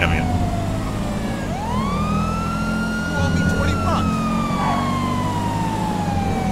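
A police car siren in Grand Theft Auto wails in long rising and falling sweeps, loud and steady over engine and game noise, with someone talking faintly underneath.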